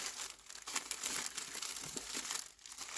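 Close, faint crinkling and rustling of plastic packets being rummaged through in search of washi tape, a continuous irregular scrunching with no talk.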